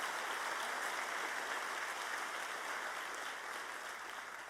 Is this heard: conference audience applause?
yes